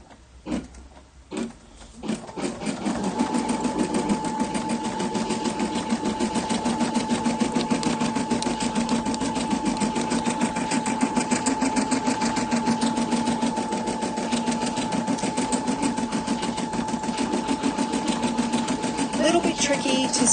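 A home sewing machine runs continuously for roughly seventeen seconds after a few short starts, steady and close, stitching pale yellow thread on white fabric.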